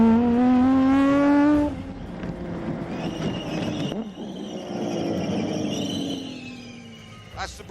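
A car's squeaky brakes let out a loud, rising-and-falling high squeal that sits close up for the first couple of seconds, then softer squeals and road and engine noise follow, with a final brief squeak at the end.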